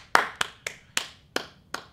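Six crisp hand claps land at a steady pace, close but a little softer, each one snapping out and fading quickly before the next.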